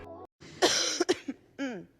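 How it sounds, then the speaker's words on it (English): A short burst of harsh coughing, two or three quick coughs close up, with a brief voice before and after. "No, I was coughing."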